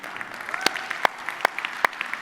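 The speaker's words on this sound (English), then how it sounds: "Please give a huge round of applause to yourself." Light applause from an audience at a blockchain industry event in Dubai, a thin patter of clapping with a few sharper claps standing out, fairly quiet and distant.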